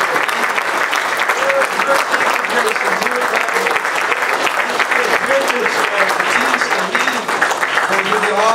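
A church congregation claps continuously and loudly throughout, a dense, steady wash of applause with scattered voices and music beneath.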